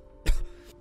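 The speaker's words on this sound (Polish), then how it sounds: "ten kaszel nie był udawany" A single short, close cough bursts out from one person, brief and abrupt against a quiet background.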